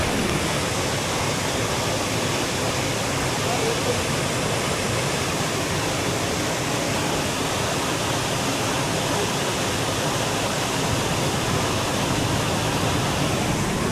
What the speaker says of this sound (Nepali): यो खोलाको बहाव यहाँ माथिसम्म आउँदो रहेछ